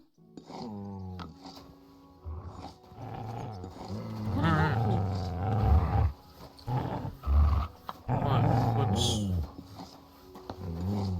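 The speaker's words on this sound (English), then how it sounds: "What's he growling about?" A dog growls in the medieval game Kingdom Come Deliverance II, with rough, drawn-out growls and snarls rising and falling over about eleven seconds, mixed with game voices talking.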